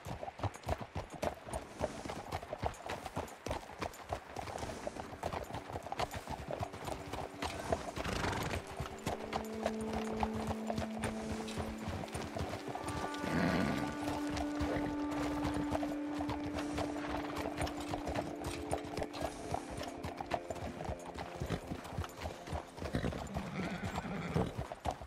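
Horses clip-clop along a trail in Red Dead Redemption 2, a steady dense patter of many hooves throughout with occasional whinnies rising over the plodding.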